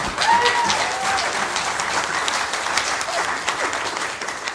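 An audience at a Cardiff Metropolitan University public professorial lecture applauds with dense, sustained clapping that runs steadily for several seconds, with faint cheering mixed in.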